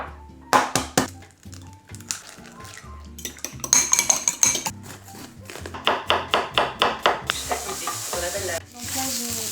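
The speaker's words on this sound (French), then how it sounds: "Donc là j'ai mis les œufs avec les poivrons que je fais bien revenir, ça se mélange bien" Eggs and bell peppers sautéing in a frying pan, with steady sizzling and a rhythmic run of utensil taps and scrapes against the pan as the mix is stirred, close and clear.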